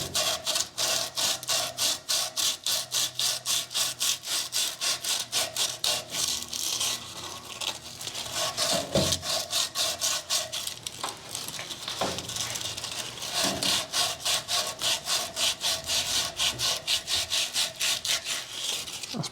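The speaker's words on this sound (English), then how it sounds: "Grab a piece of emery paper and give this a little bit of a polish up." Emery paper rubs soot and corrosion off the exhaust pipe of a 2009 Ford Fiesta 1.2 petrol, a fast rhythmic rasping back and forth, close and steady, pausing briefly midway before resuming.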